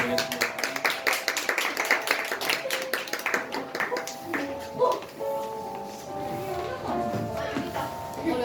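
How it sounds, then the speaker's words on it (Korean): A church congregation gives a round of applause after a prayer, quick scattered clapping that thins out partway through, with a voice talking over it and some faint tonal ringing in the room. "영광의 박수"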